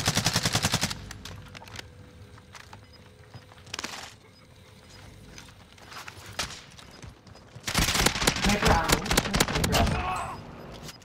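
Gunfire in a first-person shooter video game rings out in rapid automatic bursts, loud at the start, sporadic shots through the middle, then a dense, heavy volley near the end, with brief voice chatter mixed in.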